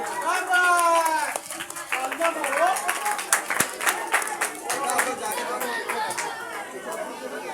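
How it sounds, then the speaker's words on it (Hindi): Clapping and crowd chatter at a children's 14 August school program as a young boy comes onto the stage, a steady patter of many hands with voices talking throughout. "अब्दुल मतीन रहमान स्टेज पे आए और अब्दुल मतीन रहमान के लिए तालियां।"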